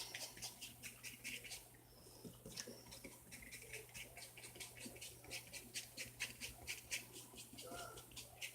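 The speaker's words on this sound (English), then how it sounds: "Doggies hear somebody outside." Dogs react to someone outside with faint, rhythmic panting and light scuffling over a low steady hum, heard softly without speech.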